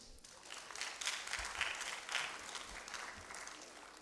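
Sustained audience applause from a crowd at a youth panel discussion, steady and fairly loud throughout with a few brief swells, no voices on top.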